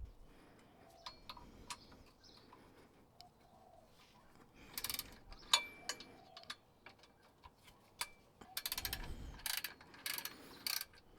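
A 12mm socket ratchet loosens the transfer case bash plate fasteners on an Isuzu MU-X / D-Max 4WD, giving faint, intermittent bursts of quick clicking with short pauses between turns.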